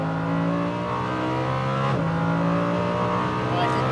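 A Lamborghini Huracan V10 accelerates hard on the Las Vegas Motor Speedway circuit, a loud, close, continuous engine roar whose pitch climbs steadily, with a brief dip at a gear change midway before it pulls upward again.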